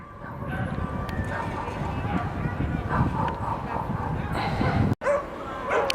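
Dogs at a dog run in New York City during a blizzard bark and yip intermittently at a moderate distance, mixed into steady outdoor wind and ambient noise.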